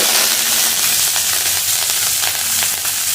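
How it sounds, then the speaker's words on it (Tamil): Loud, continuous sizzling and crackling of black gram dal, mustard seeds, dried red chillies and curry leaves frying in hot oil in a kadai, with scattered pops throughout, close up and without voices. "கடாயில் எண்ணெய் சூடாயிடுச்சு."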